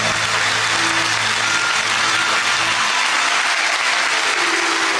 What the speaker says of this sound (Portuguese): Dê uma salva de palmas bem forte e bonita para o Senhor Jesus.